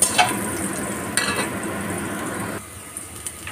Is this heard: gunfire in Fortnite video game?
no